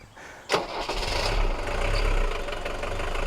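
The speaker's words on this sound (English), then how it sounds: "It's what a Mercedes diesel is supposed to sound like." A 1983 Mercedes 240D W123 diesel engine cranks and catches with a sharp burst, then settles into a loud, steady, clattering idle that continues to the end.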